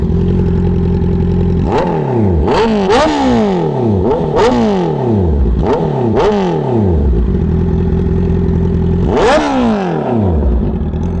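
A Honda CB650R E-Clutch with an upgraded air filter revs hard up close, with about six sharp throttle blips that rise and fall back to a loud steady idle, and no talking.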